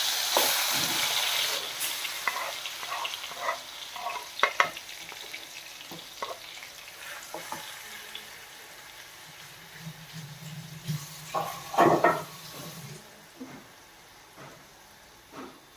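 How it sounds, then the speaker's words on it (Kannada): Grated apple sizzles and crackles in hot ghee in a pan, a steady frying hiss broken by clinks and scraping strokes of stirring, loudest at the start and again briefly near the end. "ಇದನ್ನೊಂದು ಸ್ವಲ್ಪ ನೀರಿನ ಅಂಶ ಹೋಗೋ ತನಕ ತುಪ್ಪದಾಗ ಫ್ರೈ ಮಾಡ್ಕೋಬೇಕು"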